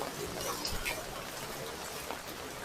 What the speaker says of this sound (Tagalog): Grabe yung ulan. Tuloy-tuloy na simula pa kagabi hanggang ngayon.